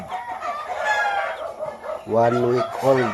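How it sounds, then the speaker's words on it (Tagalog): One-week-old Rhode Island Black and Rhode Island Red chicks chirp and cheep close by. Their scattered peeps grow into a louder burst of calls near the end. "Yung ating Rhode Island Black at saka Red, mga 1 week old"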